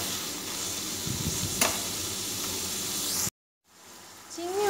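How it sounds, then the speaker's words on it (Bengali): Shrimp seasoned with salt and turmeric sizzle loudly in hot oil in a wok, a dense continuous close crackle. It cuts abruptly to near silence, then a faint hiss creeps back. "হালকা একটু নেড়ে চেড়ে আমি চিংড়ি মাছ ভাজা তুলে নেব।"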